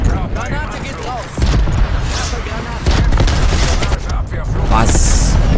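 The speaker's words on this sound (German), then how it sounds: "Granate geht raus!" A grenade goes off in the Call of Duty Black Ops Cold War multiplayer match, a loud boom in a dense mix of gunfire and battle noise, with a sharp burst near the middle and voices talking over it.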